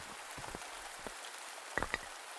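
Rain in a survival video game falls as a steady, soft hiss of drops on surfaces, with a few sharper spattering taps standing out near the end, quiet and continuous throughout.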